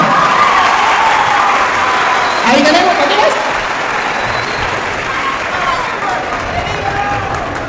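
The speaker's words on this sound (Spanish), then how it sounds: "Aplausos para la Virgen María" Crowd applause honoring the Virgin Mary during a live religious debate, a steady wash of clapping that continues throughout while voices talk over it.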